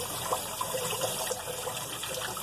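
Kitchen tap water runs steadily over leeks being rinsed and fanned open, a continuous close splashing gush with shifting trickles as the water hits the leaves.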